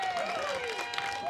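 A round of applause from wedding guests in a room after a speech, a dense, steady patter of clapping heard close for a brief moment.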